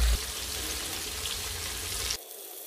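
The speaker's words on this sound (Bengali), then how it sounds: "তো এর মধ্যে আমি মাছটাকে ভেজে নিচ্ছি।" Hilsa fish fries in oil over an outdoor clay stove, giving a steady, close sizzle with a dense crackling hiss. It cuts off abruptly near the end.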